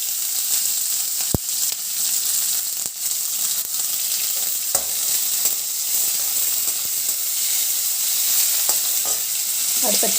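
Curry leaves hit hot oil with a loud, hissing splutter and crackle. The sizzle stays intense and steady, broken by a few sharp pops and the clink of a stirring spoon.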